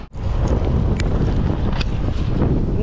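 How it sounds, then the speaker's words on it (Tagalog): Strong wind buffeting the microphone during a long road bike group ride, a continuous loud roaring rumble with brief gusty flutters, no voices. "Napakalakas ang hangin"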